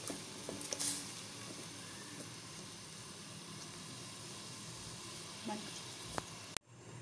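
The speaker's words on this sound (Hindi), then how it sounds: "व्यूअर्स, अब देख लें आप, शीरे में उबाल आ गया।" Sugar syrup for mango squash boils in a pan with a soft, steady bubbling hiss, faint and unbroken. A brief clink comes near the end.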